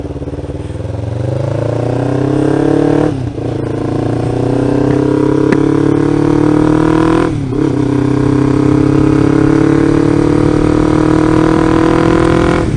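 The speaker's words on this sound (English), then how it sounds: "The exhaust is a little loud, but I think it sounds great." A Kawasaki Ninja 500R motorcycle engine runs steadily with a loud, throaty exhaust, its rumble rising briefly twice as the throttle is blipped, close by and without talk.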